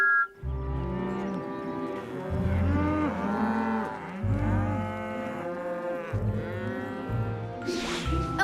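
Cartoon cows on a farm moo repeatedly in long, deep, drawn-out calls that overlap one another, loud and close, with a brief quiet gap near the start.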